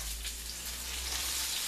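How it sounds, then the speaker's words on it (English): Onions and bell pepper sizzle steadily in a hot pan, a continuous crackling hiss with no talking. "Now I'm going to start by frying the onions."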